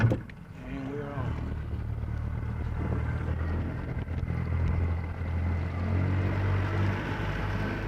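A Yamaha 115 four-stroke outboard motor drones steadily under wind noise as a boat runs on a lake, a low continuous hum with people talking over it.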